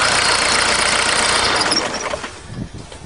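An old mechanically injected diesel engine in a caravan runs loud and close with a steady, rough clatter, then is switched off and winds down to quiet within the last second.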